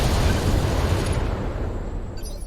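Mech weapons fire in the video game Battletech, a loud dense rumbling barrage of booms and blasts that fills the whole moment and tapers slightly toward the end.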